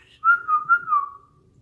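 A person whistles a short, clear tune of a few linked notes that slide slightly downward, close and alone over a quiet background.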